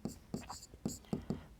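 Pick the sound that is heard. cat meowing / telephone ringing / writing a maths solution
writing a maths solution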